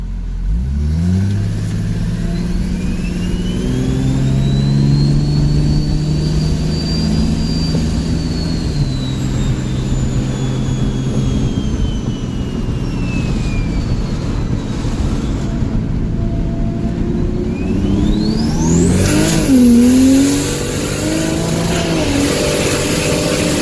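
A 1000 hp Toyota Supra with an automatic transmission revs hard under boost, its engine note climbing and holding with turbo whistle and whine. The car is loud and close, and a final sharp rev comes near the end.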